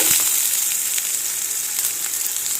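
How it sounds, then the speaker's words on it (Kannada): Chopped onion fries in hot oil, giving a loud, dense, continuous sizzle heard close up with a few faint stirring taps. "ಈರುಳ್ಳಿ ಸ್ವಲ್ಪ ಘಮ ವಾಸನೆ ಹೋಗೋ ತನಕ ಇದನ್ನು ಎಣ್ಣೆಯಲ್ಲಿ ಸ್ವಲ್ಪ ಬಿಸಿ ಮಾಡಬೇಕು"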